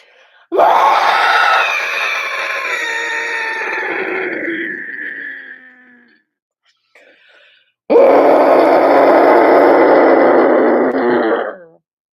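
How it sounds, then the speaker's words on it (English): A group of people screams together in unison during a qigong breathing session. Two long, loud, sustained screams are separated by a short quiet pause. "Let's have a group scream."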